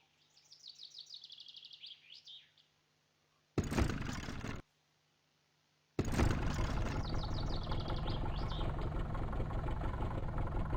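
Car engine in the video game My Summer Car starting up and running, a steady mid-pitched idle that cuts in briefly, drops out, then returns and holds loud and close, with birdsong chirping beforehand.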